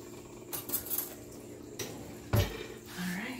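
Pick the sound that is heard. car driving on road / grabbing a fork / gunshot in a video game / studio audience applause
grabbing a fork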